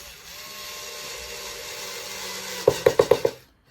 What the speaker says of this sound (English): excuse the noise. I'll just drill these in.